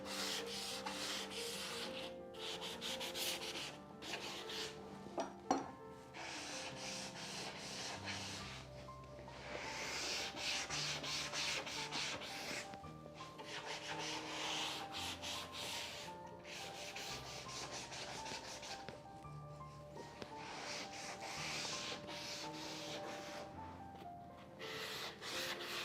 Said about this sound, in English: Some sanding on the bevels.